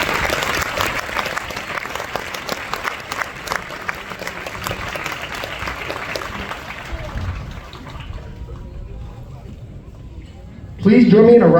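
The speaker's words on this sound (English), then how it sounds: "Please join me in a round of applause for our retiree and their families." Applause from an audience at a United States Army basic combat training graduation ceremony honoring a retiree, a steady broad clatter of many hands lasting about ten seconds, fading slightly before a louder burst near the end.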